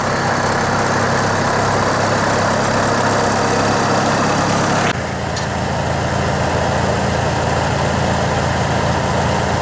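A farm vehicle's engine idles steadily while silage is brought in for cows, a constant loud low rumble that changes character midway and keeps running.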